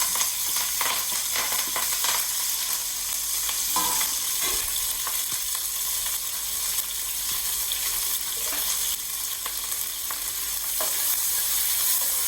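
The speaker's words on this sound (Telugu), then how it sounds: "ఇదిగోండి ఉల్లిపాయ వేస్తున్నా ఫస్ట్ కరివేపాకు కూడా" Onions and curry leaves frying in hot oil for a bendakaya pulusu, giving a steady, close sizzle with occasional stirring clatter throughout, without any talk.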